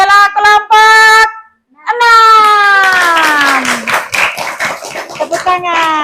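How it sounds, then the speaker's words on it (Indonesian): Hands clapping as student groups receive awards for best performance in a school classroom, mixed with loud, high-pitched children's voices and cheering throughout. "Tepuk tangan."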